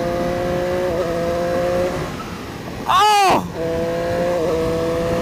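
Triumph Street Triple 765 RS motorcycle engine screaming at high revs, a steady droning note broken by a sudden loud roaring surge and quick shift before settling back, with a brief exclamation from a rider.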